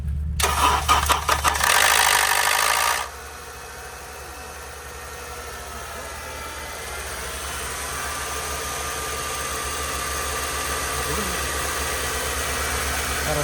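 A Honda Accord with 50,000 miles, abandoned for years, cranks for a few seconds in a loud, rapid starter whir, then catches and settles into a steady, rough idle; the start is close and abrupt.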